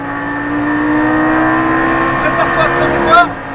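A Lamborghini Gallardo LP560 pulls hard at full throttle on the Circuit du Var, its engine note rising steadily and loud close by, then shifting near the end as the revs change.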